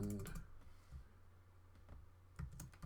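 Quiet keystrokes on a computer keyboard, a short burst of clicks at the start, then scattered taps and another small burst near the end, faint and close.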